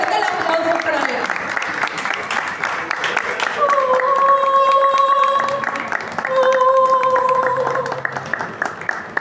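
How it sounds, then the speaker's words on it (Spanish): Audience applause at a gothic literary reading night runs continuously for several seconds, moderately loud, with some crowd murmur and sustained tones sounding over it. "Fuerte el aplauso para él"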